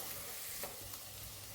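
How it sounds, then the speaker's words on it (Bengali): Garlic frying in oil in a home kitchen pan while making mushroom soup, a soft steady sizzle with faint stirring scrapes, close and quiet, no voices. "এখানে একটু রসুনটা লাল লাল করে একটু ভেজে নেব"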